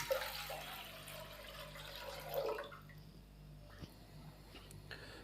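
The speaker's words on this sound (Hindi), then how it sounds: "तो मैकरोनी को बॉयल करने के लिए हम पैन के अंदर 2 कप पानी शामिल करेंगे" Water being poured into a cooking pan to boil macaroni, a running, splashing pour that fades out partway through, followed by quieter kitchen noises.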